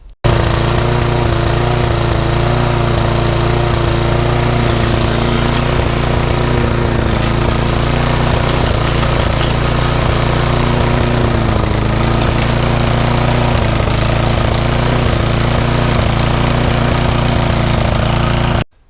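A small lawnmower engine runs loud and steady for the whole stretch, a constant buzzing drone with slight wavering, close to the listener.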